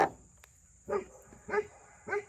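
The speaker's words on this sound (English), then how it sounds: "I hear one dog barking, the whole county's gotta start barking" A dog barks four times at a distance, single barks spaced about half a second apart, over a faint steady insect-like hum.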